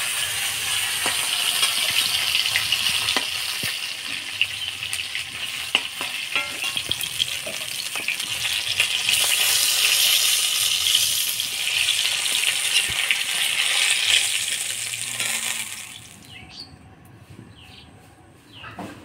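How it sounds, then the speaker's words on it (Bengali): Pieces of taki fish fry in hot oil with a steady, loud sizzle, joined by occasional clinks and scrapes of stirring, before the crackle abruptly drops away near the end. "মাছগুলো ভাজিয়ে নিলাম, এবার তুলে নেব।"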